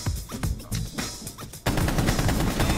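Rapid gunfire in Rainbow Six Siege: a fast run of close, sharp shots for about a second and a half, then a dense, continuous roar of automatic fire.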